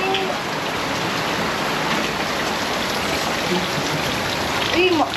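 Heavy rain pours steadily and loudly in Bicol, a dense continuous downpour drumming on surfaces for the whole stretch, with a brief faint voice near the end.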